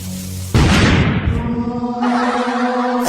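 A loud bomb blast erupts suddenly after a short quiet lead-in, a broad roaring burst that then settles into a sustained rumbling, hissing wash, set in a comedy scene at a wedding.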